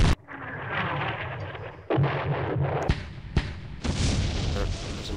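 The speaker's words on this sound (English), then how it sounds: "There's a mortar there." Mortar fire in a Second World War strategy game: a few heavy booming blasts, each followed by a rumbling crackle of debris. The impacts come in quick succession at close range, and no voices are heard.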